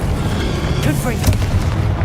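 A fiery Confringo explosive spell blast in the Hogwarts Legacy video game: a dense, rumbling boom with crackling bursts layered over steady low-end noise, loud and close throughout.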